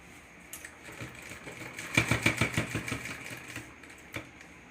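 A sewing machine stitches a shoulder bag in a quick burst of rapid, rhythmic clattering, with a few isolated clicks before and after.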